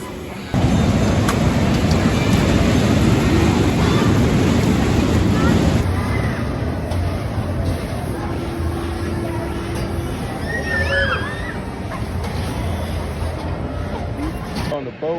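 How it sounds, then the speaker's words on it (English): Amusement park boat ride moving across water, with a steady loud wash of water and wind noise that drops slightly partway through, and voices faintly present. "On the boat ride,"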